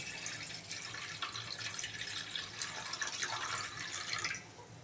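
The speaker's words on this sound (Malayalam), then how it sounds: "നമുക്ക് ഈ പാത്രത്തിലേക്ക് നമുക്ക് കുറച്ച് വെള്ളം ഒഴിച്ചു കൊടുക്കാവേ." Water pours steadily from a tap into a cooking pot for boiling pasta, a continuous splashing fill that stops just before the end.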